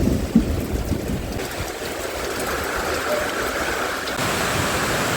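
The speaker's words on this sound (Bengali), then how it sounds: "বাট ম্যাটার হচ্ছে ভয়ঙ্কর লেভেলের বৃষ্টি হচ্ছে।" Very heavy rain pours steadily at Banpur during a train journey toward the Gede border, a dense, constant wash of hiss that holds unbroken from start to finish.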